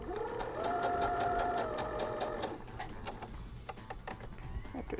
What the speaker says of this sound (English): let's just start sewing.